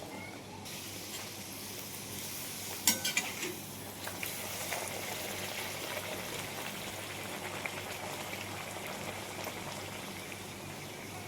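Wheat-flour luchi flatbread puffs up as it fries in hot oil, producing a steady bubbling, crackling hiss throughout, with a few sharper spatters early on and no talking.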